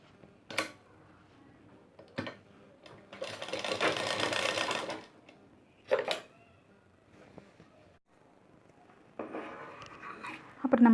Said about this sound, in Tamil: இனி வந்து நம்ம ஸ்டிச் பண்ணலாம்.